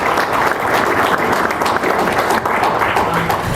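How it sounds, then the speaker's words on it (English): An audience applauds presenters at the end of a chess conference Q&A session, with dense, steady clapping that holds at an even loudness through the whole stretch. "let's give one more round of applause to the presenters."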